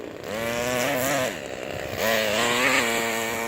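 Four-stroke engine in a Losi 8ight-T RC truggy runs loud and close, its buzzing pitch rising and falling as the throttle is blipped across a few seconds.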